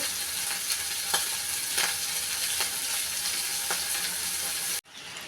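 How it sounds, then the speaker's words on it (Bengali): Prawns frying in hot oil, a dense, steady crackling sizzle close up with occasional sharper pops, running unbroken before cutting off abruptly near the end. "চিংড়ি মাছ ভেজে নিচ্ছি।"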